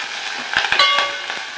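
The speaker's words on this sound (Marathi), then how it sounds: "कांदा आपल्याला तांबूस कलरचा होईपर्यंत व्यवस्थित मी इथे परतून घेणार आहे." Onion sautéing in a pan with garlic and chili, a steady close sizzle with a few soft stirring knocks and scrapes in the middle.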